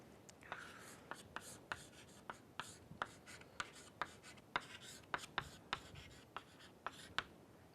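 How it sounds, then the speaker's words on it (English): Pen strokes on paper as a line of math is written out, a steady run of short, sharp scratches and taps, close and quiet with no talking. "Let me write line below."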